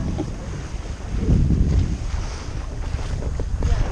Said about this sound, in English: we're having a little sunset sail here